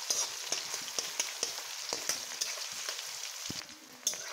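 Chopped onion, green chili and garlic frying in oil until reddish, with a low continuous sizzle punctuated by regular, sharp spatula scrapes and taps against the pan.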